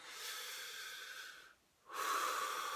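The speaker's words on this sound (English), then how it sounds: "I sit on my bed, and I just take a deep breath" A person takes a deep breath: a long, airy inhale, a short pause, then a strong, close exhale, all quiet and without speech.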